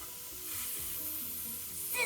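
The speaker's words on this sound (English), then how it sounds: "Sizzle!" Onions sizzling in a pan while sautéing vegetables for a Tuscan white bean soup, a soft, steady hiss that rises slightly midway, with a brief clatter near the end.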